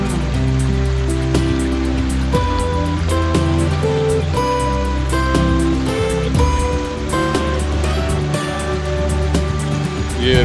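Loud, steady rush of flowing river water near Kohat, Pakistan, early morning, continuous and unbroken, with a faint tonal hum beneath it.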